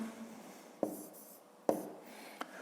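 A pen writing numbers in a fifth-grade maths exercise, soft scratching strokes punctuated by three distinct taps as digits are set down, close and quiet with no talk.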